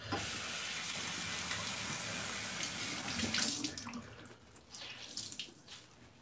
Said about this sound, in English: I'll jump in the shower real quick